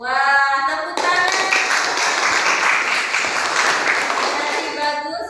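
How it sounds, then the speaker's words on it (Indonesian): A voice speaks briefly, then a classroom of students breaks into dense, loud hand clapping that holds steady for several seconds before starting to taper. "Wah, tepuk tangan."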